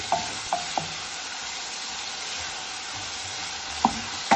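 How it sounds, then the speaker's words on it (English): Onions frying uncovered in a pan for the tempering of a Kerala kadala curry make a steady sizzle, with a few light clicks of a utensil against the pan. "The onion needs to be nicely brown for this tempering. So I'm just going to leave it here in the pan and not cover it."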